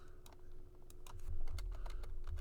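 Typing on a computer keyboard nearby, a quick uneven run of soft key clicks over a low room hum, with no talking.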